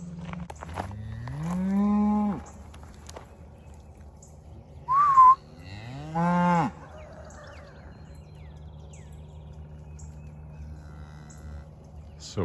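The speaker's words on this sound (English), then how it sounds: "These cows are not used to people." Cattle unused to people moo nearby: two long, rising bellows several seconds apart, with a brief whistle-like squeal between them, over a quiet low hum.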